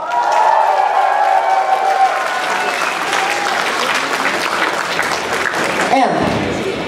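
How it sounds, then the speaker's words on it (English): A concert crowd at a live show in Saint Petersburg cheers and applauds loudly, with sustained clapping, whistles and shouts, and a voice speaking over the noise as it carries on. "so cheer up for Marco!"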